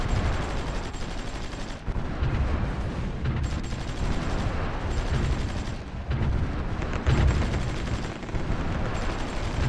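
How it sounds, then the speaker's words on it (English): Gunfire in the strategy game Supreme Ruler Ultimate, a dense continuous barrage of shots and blasts that stays loud throughout with no pauses and no speech. "Taking more neutral fire."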